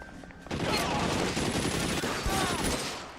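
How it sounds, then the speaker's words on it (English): Sustained gunfire from the video game L.A. Noire, a dense rattling fusillade of rapid shots lasting several seconds, loud and close with a voice talking over it. "Gun."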